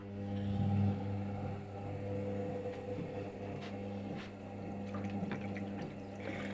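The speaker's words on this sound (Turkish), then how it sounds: "Şimdi suyumu da ekleyeyim." Water is poured into an Arçelik 3320 washing machine, a steady splashing trickle over a constant low mechanical hum, fairly faint and close.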